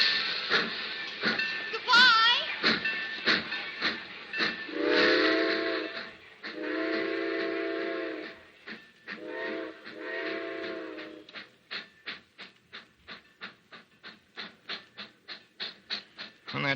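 A steam train departs in a radio drama effect, with a wailing whistle given in several long blasts, then rapid rhythmic chuffing that speeds up and stays close and loud.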